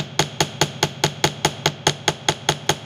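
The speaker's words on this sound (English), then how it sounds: "So I take tiny, tiny, tiny circular motions when I'm hammering" Small metal jewelry piece hammered with tiny circular strokes, giving a steady series of about thirteen sharp, close, evenly spaced taps with no talking.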